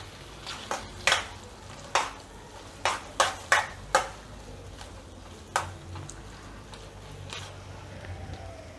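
A spoon clacks against a pan while samosa filling of mashed potato is stirred, a series of sharp, separate scrapes and knocks at an uneven pace over a faint low hum.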